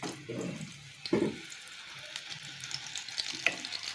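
Slit pointed gourd pieces fry in hot oil with a steady, soft sizzle and crackle, punctuated by a few louder stirring or splashing bursts, no talking.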